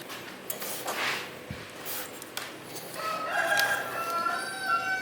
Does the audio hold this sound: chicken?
yes